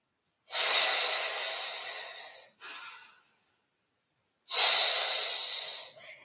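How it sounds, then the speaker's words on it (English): A person breathes deeply in a yoga exercise, drawing in through the nose and exhaling through the mouth. Close, airy breaths last about two seconds each, with a short extra puff and a silent gap between. "Inhale for a count of 5 through the nose. Exhale for a count of 5 through the mouth."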